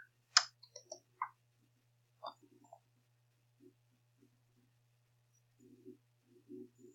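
A computer mouse clicks to open a course ebook: a few quiet, sharp clicks close together early on, then faint scattered ticks over a near-silent background.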